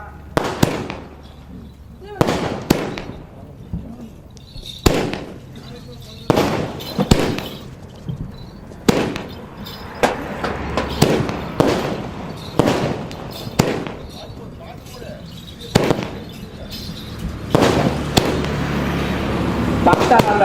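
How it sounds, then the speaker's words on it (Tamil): Firecrackers go off during an outdoor therukoothu street theatre performance of the Ponnar Shankar drama in Nallampalayam, a string of sharp loud bangs and crackling bursts recurring every couple of seconds, with voices underneath. "பட்டாசு வைக்கிறார்"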